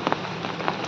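Rain falls steadily in a village, a dense, even hiss of drops hitting surfaces nearby, with a few slightly louder spatters standing out from the continuous wash.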